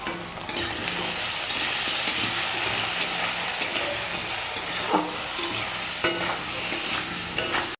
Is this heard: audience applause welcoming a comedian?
no